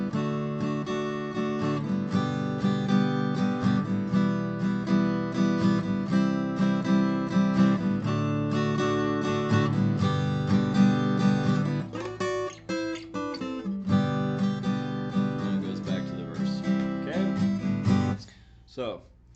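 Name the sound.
guitar playing two-part harmony on the chorus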